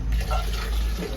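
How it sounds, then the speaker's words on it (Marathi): Hot water pours steadily into a pan for about a second, a continuous liquid rush with low rumble, fairly close. "पाणी टाकते"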